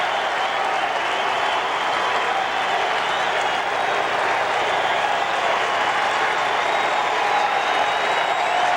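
A packed baseball stadium crowd of Yankee fans on their feet at a Yankees–Angels game in Anaheim, cheering and applauding in a dense, loud, unbroken roar from a large distant mass of people.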